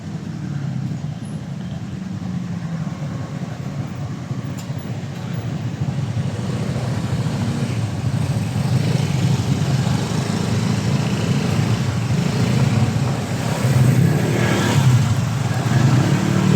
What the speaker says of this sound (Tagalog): pag traffic, traffic talaga.